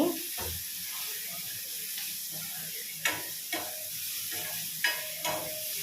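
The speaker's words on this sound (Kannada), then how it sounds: "ಇದು ಲೋ ಫ್ಲೇಮಲ್ಲಿ ಸ್ವಲ್ಪ ಚೆನ್ನಾಗಿ ಫ್ರೈ ಆಗಿ ಇದೀಗ ಆಲ್ಮೋಸ್ಟ್ ಟೊಮ್ಯಾಟೊ ಸ್ವಲ್ಪ ಬೇಯ್ತಾ ಬಂದಿದೆ" Egg burji masala with tomato and chilli powder fries on a low flame, a gentle continuous sizzle punctuated by several distinct spatula taps and scrapes against the pan.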